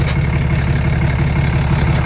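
Diesel car engine idling steadily just after a cold start, a close, continuous low rumble with even knocking pulses and no talk over it.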